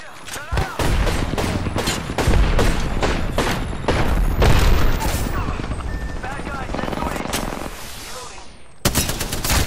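Apex Legends gunfight with rapid bursts of automatic gunfire, dense and loud, stopping and starting over several seconds, with a heavy burst at the end and voices calling out in between.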